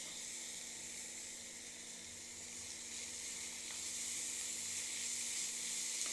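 Curry leaves and carrot sauté in a pan with a soft, steady sizzle that continues alone and grows slightly louder toward the end.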